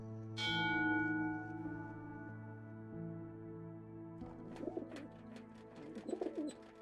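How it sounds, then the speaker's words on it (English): The Saxton Bell in the video game The Lost Crown clangs once with a bright strike and a long, humming ring that fades slowly, followed by soft cooing bird calls. "Oh, it's the actual bell, that's why."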